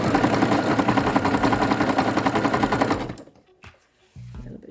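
A sewing machine stitches overlapping fabric strips in a fast, loud, steady run for about three seconds, then stops, leaving a few faint handling sounds.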